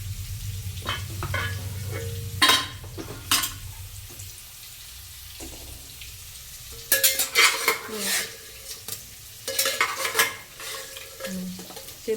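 Boiled mutton goes into a pan of browning onions and gets stirred, bringing loud metal spoon clanks and scrapes in bursts over a background sizzle, with quieter gaps between the clusters of clatter.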